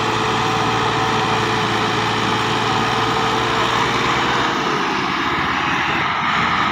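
Two tractors pulling a heavy trailer uphill roar steadily at high revs, a loud continuous drone that barely varies, with no voices over it.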